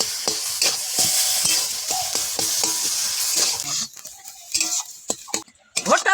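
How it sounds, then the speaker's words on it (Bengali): Mashed potato and tomato with roasted ground cumin, coriander, pepper, fennel and fenugreek plus lime juice are stirred in a pan: close, sizzly scraping strokes with clinks of a utensil, the strokes turning sparser and more irregular toward the end. "এবার একটু নেড়ে দেবো।"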